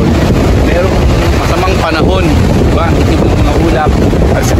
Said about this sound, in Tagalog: Ngayon 6 o'clock na ng gabi, sobrang lakas na ng hangin.